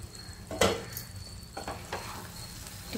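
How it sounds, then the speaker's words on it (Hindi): Fresh curry leaves hit hot oil for a chicken pepper fry and crackle close by, with a sharp burst of spitting followed by softer pops and sizzle. "आमे फ्रेश भृसंग पत्र एथे पके दबा देखंतु फुटुची सीम रे फुटुची तेल संगे रे"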